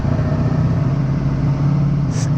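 A Ducati motorcycle engine runs at a steady idle, giving a loud, constant low drone with no change in pitch. It sounds close and carries on alone, without any talking.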